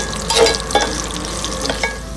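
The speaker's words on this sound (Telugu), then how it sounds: "సో ఆ లైట్గా ఉన్న హీట్లోనే వెల్లుల్లి ఫ్రై అయితే చాలు" Garlic sizzling and frying over low heat in tempering oil for a restaurant-style gongura chutney, with a steady crackle and a few louder stirring scrapes and spatters, no voices.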